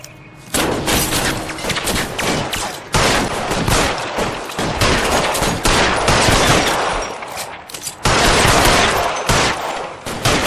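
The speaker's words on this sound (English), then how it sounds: "Fire a warning round." Heavy gunfire in the video game LA Noire, with dense, loud bursts of rapid shots and volleys that pour out almost continuously and pause only briefly.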